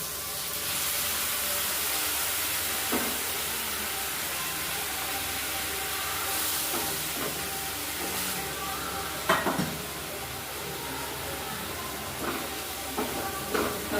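A ground paste of white mustard, poppy seeds, melon seeds, cashews, peppercorns and green chili sizzles steadily while being stir-fried with broccoli, with a continuous hiss and occasional scraping clatters of the spatula.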